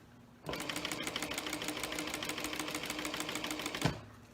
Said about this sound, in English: we're going to top stitch on top of the vinyl